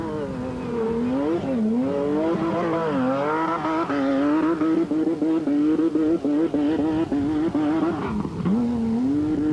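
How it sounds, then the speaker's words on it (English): A rear-engine, rear-wheel-drive Schlesser rally buggy in the 1994 Tunisia Rally Raid holds its engine against the rev limiter, a loud, close, buzzing drone that wavers and stutters continuously. "Rear-engine car, and listen to it on the rev limiter, popping away."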